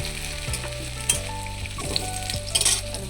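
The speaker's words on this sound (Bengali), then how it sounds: "আলুটা ভাজা ভাজা হয়ে গেছে।" New potatoes frying in a pan, a steady loud sizzle and crackle with occasional stirring scrapes and bursts, no voices.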